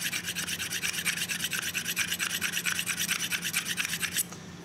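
Tractor carburetor part being rubbed back and forth across sandpaper on a flat surface, a fast, even series of close, raspy scraping strokes that stops abruptly near the end.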